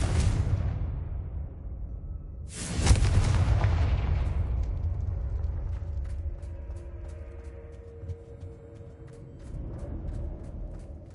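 A fiery spell blast in the video game Hogwarts Legacy: a loud booming explosion that hits sharply, rolls on with rumbling debris and crackle, and then fades into faint ringing tones.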